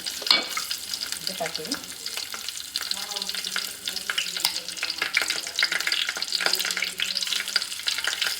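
Garlic and curry leaves sizzle steadily in hot oil, a bright continuous crackle for a Konkani-Malvani style fish curry tempering, with a few soft stirring knocks and a brief spoken word near the start.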